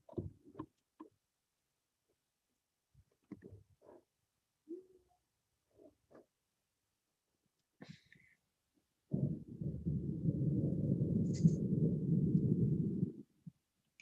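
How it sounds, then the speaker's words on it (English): A long, low rumble of thunder rolls in after several seconds of near silence and a few scattered small knocks, building and holding steady for about four seconds before cutting off. "You guys hear that thunder?"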